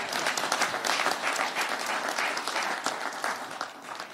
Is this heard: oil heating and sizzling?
no